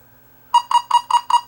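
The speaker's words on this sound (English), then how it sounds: "And now it beeps." Non-contact voltage tester giving a run of about five quick, evenly spaced electronic beeps, close and clear, after a faint steady hum.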